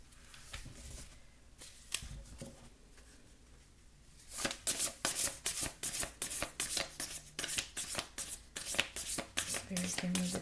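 Tarot cards are handled quietly at first, then shuffled in a rapid run of crisp riffles and slaps, close by, with some talk in the background.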